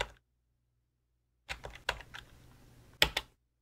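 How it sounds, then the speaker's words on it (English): Typing on a computer keyboard, two short clusters of close, crisp key clicks separated by silence, quiet and alone. "let's see what happens if we just type Windows Subsystem for Linux"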